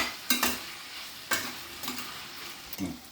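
Broad beans with jaggery fry in a pan, a soft sizzle under three distinct scraping stirs spaced about a second apart, close and fairly quiet.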